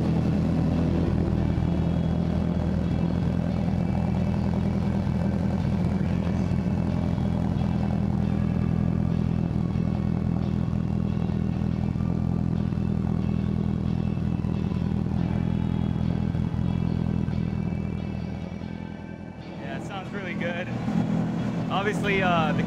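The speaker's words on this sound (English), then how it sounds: "I'll show you guys how that exhaust sounds from the back of the car" A steady, rumbling exhaust on a 1998 Subaru Impreza 2.5RS coupe idles close by with a deep, even drone, recorded from the rear of the car, dropping off briefly near the end as other noise cuts in.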